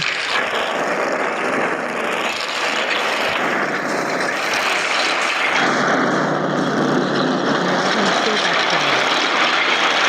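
An aircraft engine in the video game Dude Theft Wars roars loud and steady throughout, with shifting pitch as it changes, while a person talks over it.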